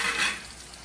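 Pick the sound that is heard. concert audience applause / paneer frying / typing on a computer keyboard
paneer frying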